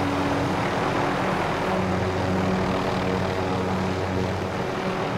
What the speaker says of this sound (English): where's this helicopter at?